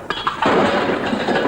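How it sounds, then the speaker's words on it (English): Gunshots are fired in a gangster-style comedy sketch: a couple of sharp cracks come first, then a loud, dense burst of blasts and echoing roar fills the rest. "Two Gun, that's 6 shots"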